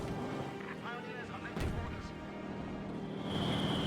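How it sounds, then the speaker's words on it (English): Mortar fire in the World War II strategy game Company of Heroes 2, with a sharp boom cutting through dense, continuous battle noise and commentary from voices during a tournament match. "Mortar's dropping a lot of smoke there."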